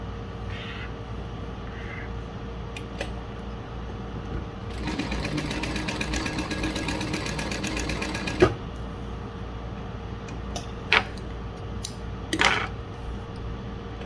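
A Juki DU-1181N walking-foot sewing machine stitching thin, light material: a steady fast mechanical chatter runs for several seconds, then stops, followed by a few close clicks and handling knocks.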